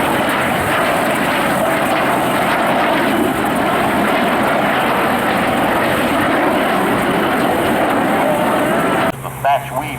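A Canadian Forces Snowbird jet at an air show roars overhead, a loud, broad, continuous engine rush that cuts off abruptly near the end.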